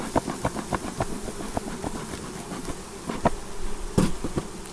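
Honeybees buzz around an open hive during an inspection, a dense close hum with scattered louder passes and faint knocks and handling noises over it.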